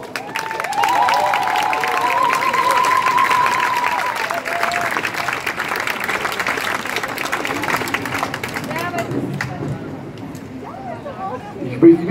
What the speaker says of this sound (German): Einmal ein Applaus.